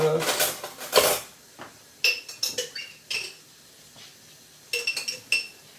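Metal spoon clattering into a kitchen sink after scooping bacon grease, a burst of clinks and clanks followed by several shorter, sharper metallic knocks and rattles of dishes, fairly close and moderately loud.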